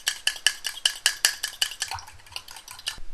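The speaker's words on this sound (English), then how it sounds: "we're going to whisk that up with a fork just to make sure it's nice and blended" A fork whisks muffin batter in a bowl with quick, steady, close clinking strokes, about a dozen in a row, that loosen and soften toward the end.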